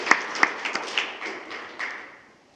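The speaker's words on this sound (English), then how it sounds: "You can applaud now." Scattered applause at a school district board meeting: a handful of people clapping, starting with a few sharp claps and then thinning out and fading within about two seconds.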